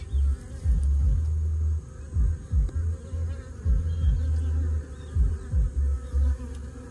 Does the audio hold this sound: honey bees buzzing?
yes